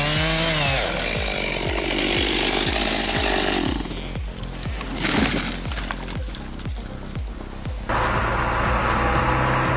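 A chainsaw plunges into a tree trunk for a bore cut. The engine roars loud and close with a steady, rhythmic pulsing chatter that runs through the whole stretch, and no voices are heard.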